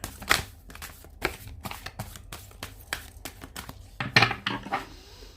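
Tarot cards being shuffled by hand, a series of quick papery riffles and soft slaps in an irregular rhythm, close and fairly clear, with no talking.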